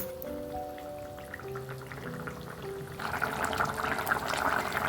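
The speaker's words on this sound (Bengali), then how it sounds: "এবার আমি মাছ দিয়ে দিচ্ছি আর 5 মিনিটের মতন জল ফুটে আসলে আমি নামিয়ে নেব।" Fish slides into a pot of boiling curry broth in a home kitchen, setting off a loud, steady bubbling and sizzling that swells and stays busy after a quieter simmer, with no voices.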